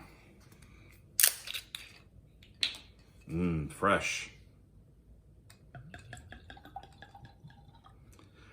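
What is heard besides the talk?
wine being poured into a glass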